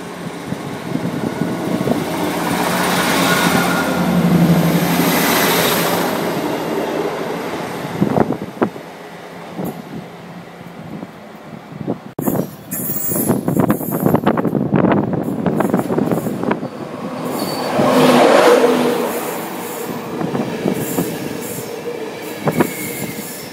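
A Class 158 diesel train passes through Peterborough station, its rumble swelling and fading twice, with sharp wheel squeals and rattling clatter in the middle, loud and close with no talk.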